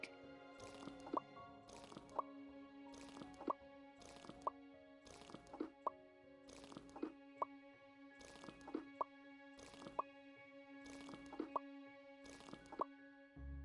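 Watering plants in the game Magical Greenhouse: evenly spaced liquid drips and plops, about nine of them, repeating over a steady tonal background hum.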